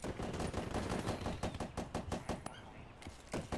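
Gunfire in a multiplayer shooter game: rapid automatic shots crackle nearly nonstop in fast, slightly uneven bursts, fairly close, with a brief pause near the end before more shots resume.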